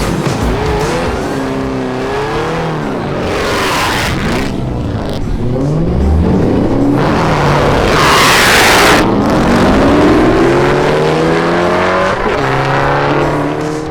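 Drag racing cars, including a Hellcat-swapped Dodge Viper, roar loudly down the strip at a RoadKill Nights event, engines revving and rising through gears with a tire squeal and a sustained close, powerful wail throughout.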